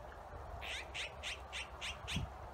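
An azure-winged magpie gives six harsh, evenly spaced squawks at a dacha, fairly distant and faint over a low background hum.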